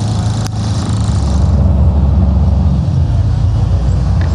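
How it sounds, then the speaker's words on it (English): Inside the number 84 city bus rolling through Guatemala City, a loud, steady low engine drone and road rumble, with a brief knock near the start and no voices. "I'm on the 84 bus."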